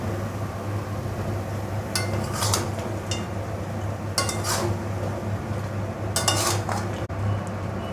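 Goat head being stirred in a metal pot, with utensils scraping and clinking against the sides in several bursts over a steady kitchen background hum.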